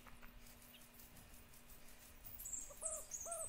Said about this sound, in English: Oh, that owl was kind of scary.